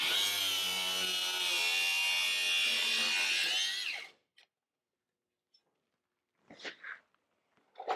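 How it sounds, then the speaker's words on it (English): Sawzall reciprocating saw cutting into the inner door panel of a 1968 VW custom, a loud, harsh buzzing whine that runs for about four seconds and then stops, followed by silence and a few faint clunks. "I gotta stick that Sawzall blade way in to get that inner panel out"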